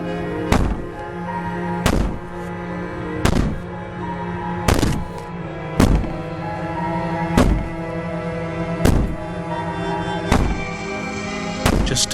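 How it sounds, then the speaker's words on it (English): Heavy banging from the princess in Slay the Princess, a series of about a dozen loud, evenly spaced thuds over a low sustained droning backdrop, with no talk. "Maybe the banging and wailing will stop if you just don't pay attention to it"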